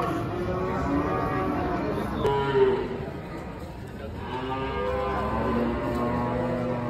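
Cattle at a busy livestock market moo repeatedly, several long, loud lowing calls overlapping over a background of crowd chatter and general market noise.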